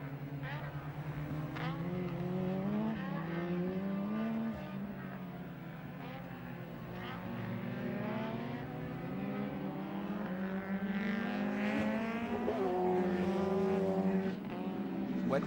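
Touring cars race in the wet at the 1987 Calder 500, engines wailing and rising and falling in pitch as they pass, heard at moderate distance beneath a commentator's voice.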